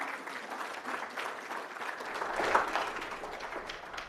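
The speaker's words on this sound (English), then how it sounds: "so give Rick a round of applause" Audience applause at a hospital gathering after a patient's performance, a moderately loud, continuous patter of clapping that swells slightly midway and carries on without speech.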